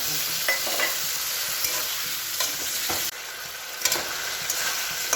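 Ginger and tomato paste frying in a pot of potato and pointed gourd curry, a continuous close sizzle with repeated stirring scrapes of a spoon against the pan.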